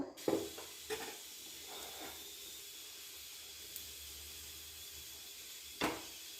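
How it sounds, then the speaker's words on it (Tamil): Urad dal and chana dal fry in a little oil inside a pressure cooker, a soft, steady hiss and faint sizzle with a few light knocks, quiet and close. "குக்கரில் கொஞ்சமாக எண்ணெய் விட்டுட்டு அதோட கொஞ்சம் உளுத்தம்பருப்பு, கடலைப்பருப்பு போட்டு இது நல்லா பொரிய விட்டுறணும்"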